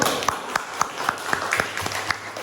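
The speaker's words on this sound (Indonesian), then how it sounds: "Ya, tepuk tangan dulu." Sparse, rhythmic clapping in a classroom after a student group presentation, a handful of distinct claps at a steady beat against light background murmur.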